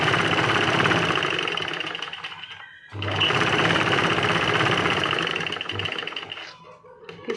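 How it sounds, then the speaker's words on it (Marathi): A sewing machine runs a half-inch seam on a sleeve, a steady close rattling hum of rapid stitching that pauses briefly midway and then resumes before stopping. "तर मी हे अर्धा इंच शिलाई मारून"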